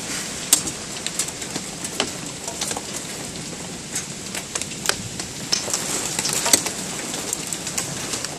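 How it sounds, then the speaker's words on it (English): Pea-sized hail falls during a storm in Fort Collins, a steady dense patter of small ice pellets striking surfaces with sharper individual clicks scattered throughout, heard from nearby with no voices. "Little pea-sized hail."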